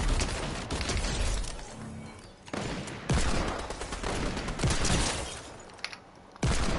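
Rapid bursts of mounted gunfire from a video game, loud and close, sounding in several long volleys separated by brief pauses.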